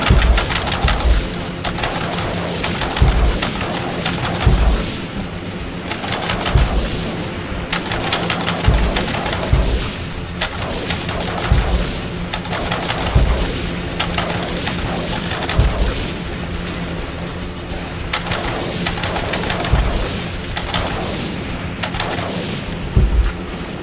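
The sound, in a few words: gunfire shooting turrets in video game Time Crisis 2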